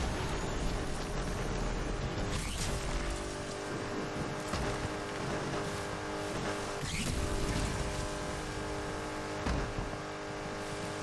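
Acura NSX tuned past 1000 horsepower racing with boost in Need for Speed Unbound: a loud sustained engine roar with shifting harmonics, periodic whooshing bursts and tire squeal, continuous and up close.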